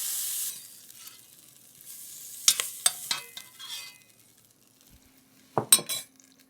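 Sausage browning in a pot: a soft sizzle at first, then metal utensil scrapes and clinks as it is stirred and lifted out, with a quiet stretch between bursts of stirring.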